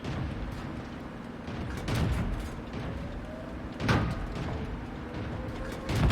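Tank guns fire in World of Tanks, a Churchill I in the fight, with heavy booming shots at about two and four seconds plus another at the end, all over a constant low engine rumble.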